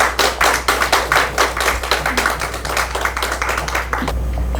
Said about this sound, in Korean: 박수로 좀 힘을 실어주시기 바랍니다.